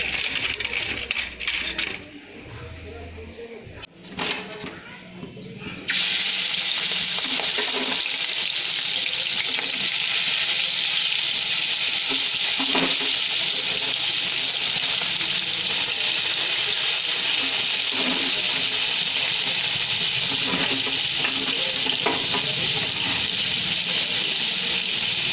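Prawns frying in a pan of hot oil give a steady, loud sizzle that fills the clip, starting after a quieter few seconds with clatter and continuing unbroken with occasional pops.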